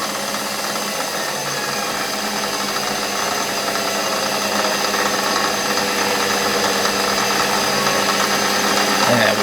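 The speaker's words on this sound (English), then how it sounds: "Okay, 10mm reamer in. Gonna have to slow it down a bit," A Sherline 5000 mill runs steadily, reaming a cast pulley with a 10mm reamer, producing a loud, continuous motor whine and cutting hum that holds level throughout.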